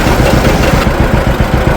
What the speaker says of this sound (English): I better go get my tractor started.